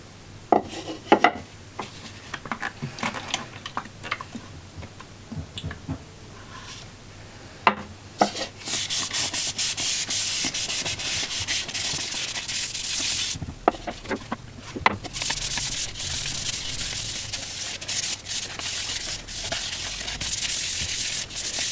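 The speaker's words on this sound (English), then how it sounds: "I signed the bowl and now just apply the oil" Oil being rubbed onto a turned walnut and ash wooden bowl with a citrus-solvent tung oil blend gives a steady, close dry rubbing and wiping hiss that runs nearly continuously, broken by a few brief knocks early on.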